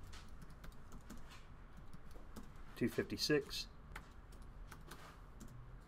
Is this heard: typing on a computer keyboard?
yes